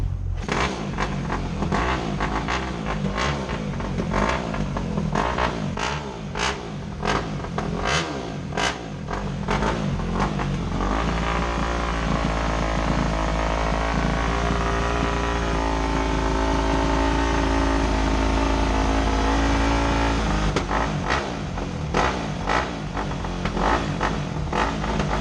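A Suzuki motorcycle engine clatters and cranks, then catches and settles into a steady, loud idle before the rougher mechanical clatter returns. It is heard up close with no voices.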